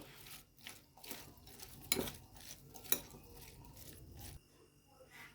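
Thai-style vegetable salad being tossed with dressing, giving quiet clinks of utensils against a bowl and soft wet rustling at close range.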